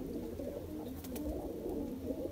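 Teddy pigeons brought from the border region coo in a steady, low, overlapping drone, close and continuous, with a faint rustle on a windy day and no talking.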